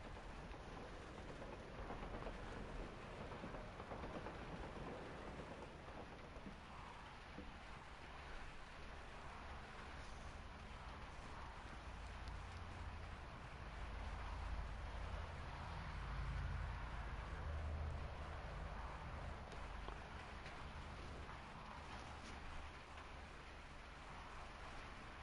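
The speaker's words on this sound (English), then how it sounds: "it's fucking raining outside" Rain falls outside as a steady, dense wash of noise, with a low rumble swelling partway through and a faint, regular high ticking running throughout.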